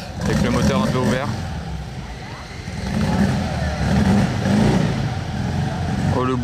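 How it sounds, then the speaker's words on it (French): A Fiat 500 Abarth engine with a lightly opened-up exhaust revs loudly and rumbles throughout, rising and falling in pitch as it accelerates, with voices faintly underneath. "Oh le bruit qu'il fait avec son ancienne Fiat 500."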